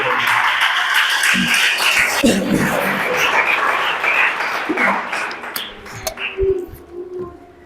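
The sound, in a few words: church congregation applause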